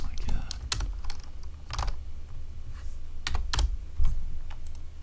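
Computer keyboard typing comes in short bursts of sharp key clicks, close and fairly loud, with brief pauses between them while someone speaks a little.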